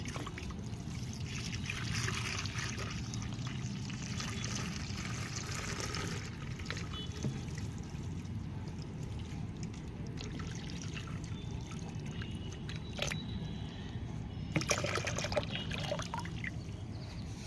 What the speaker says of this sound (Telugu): ఇప్పుడు ఈ లిక్విడ్లో మనం వాటర్ అనేది యాడ్ చేయాలి